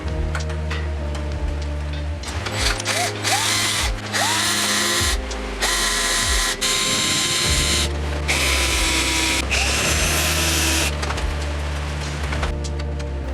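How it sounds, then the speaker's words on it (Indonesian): Power drill boring out the corroded M4 bolt head holding the power supply transformer in a vintage Marantz PM350 stereo amplifier, bursts of grinding whine starting and stopping repeatedly, close and loud, with no voices. "Terpaksa kita bor kepala baut untuk melepaskannya."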